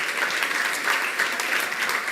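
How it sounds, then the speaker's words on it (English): A short burst of steady audience applause at a business conference on AI investment, dense even clapping throughout at moderate volume with no talk. "let's give them a round of applause."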